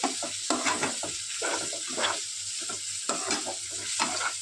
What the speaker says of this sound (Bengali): ধনে পাতা কুচানো ধনে পাতাটা দিয়ে মিক্স করে দিচ্ছি